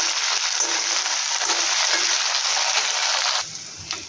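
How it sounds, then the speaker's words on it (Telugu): Green chillies fry in a hot pan with a dense, steady sizzle that stays loud for several seconds, then drops suddenly to a quieter crackle near the end. "ఫస్ట్ పచ్చిమిర్చి బాగా ఫ్రై చేసుకోవాలి."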